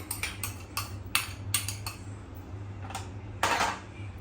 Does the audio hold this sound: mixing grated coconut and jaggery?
yes